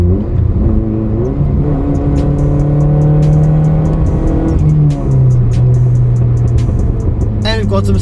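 A turbocharged car engine drones and revs up close, with scattered sharp exhaust pops and crackles ticking over the rumble and a voice underneath.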